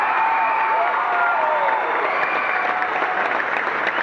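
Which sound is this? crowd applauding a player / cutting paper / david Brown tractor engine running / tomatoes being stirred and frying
crowd applauding a player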